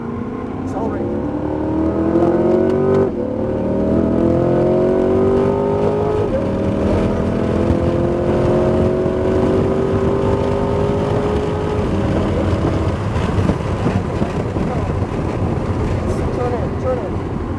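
A Corvette C8 Z51 accelerates around Homestead Miami Speedway, its engine note climbing steadily through the gears in long loud rising pulls heard from inside the car, with an instructor talking over it.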